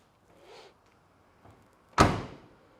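A single solid car door slam on a 1968 Chevrolet Chevelle SS 396 L-78, close and loud, preceded by faint rustling movement, then a short fading ring.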